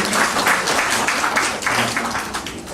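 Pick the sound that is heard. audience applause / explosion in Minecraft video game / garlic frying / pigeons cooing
audience applause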